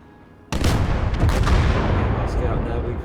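A large field gun fires in Call to Arms: Gate of Hell, opening with a sudden heavy boom. Sustained rumbling battle noise and further blasts follow, loud and close, with some voice mixed in.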